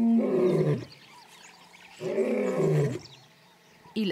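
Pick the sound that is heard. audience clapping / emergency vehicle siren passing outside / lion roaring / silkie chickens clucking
lion roaring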